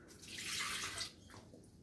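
A steady rush of water pours into a blender for about a second, then trickles off into quiet.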